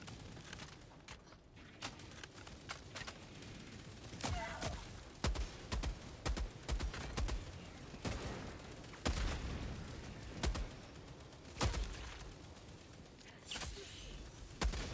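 Heavy machine gun fire in Helldivers 2, loud close bursts of rapid shots with sharp booming impacts scattered across the whole stretch, interrupted by short pauses.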